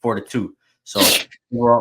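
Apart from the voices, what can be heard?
sneeze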